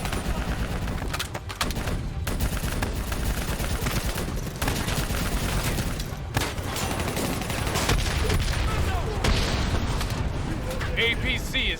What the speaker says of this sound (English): Focus your fire on the VTOL!